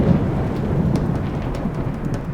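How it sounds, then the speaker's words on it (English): Thunder from a backcountry storm in Denali National Park, crackling down behind a mountain: a loud, continuous low rumble that rolls on without a break over steady rain-like hiss, with no talking. "Big, big thunder. Crackling down, probably on the other side of Divide Mountain."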